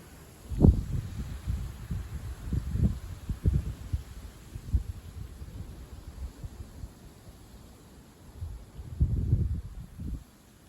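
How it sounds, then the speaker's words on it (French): Strong south-east wind gusting at night at 70 to 80 km/h batters the microphone in deep, irregular buffeting rumbles, with a faint steady hiss between the bursts. "Soudaine bourrasque."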